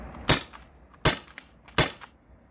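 Three sharp, loud pops come at even intervals from a modded T4E HDB68 CO2 shotgun firing rubber balls, each a crisp close crack that fades quickly into quiet.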